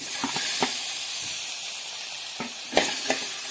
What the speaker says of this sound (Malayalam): ഇനി നമുക്കിതിലേക്ക് നമ്മൾ അരിഞ്ഞ് വെച്ചിരിക്കുന്ന തക്കാളി ഇട്ട് കൊടുക്കാം.